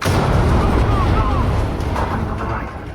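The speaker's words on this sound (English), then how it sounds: "Blow that door." An explosive charge blows a door in the video game Ready Or Not, a loud booming blast with rumbling debris that stays dense and slowly fades over three seconds, with voices underneath.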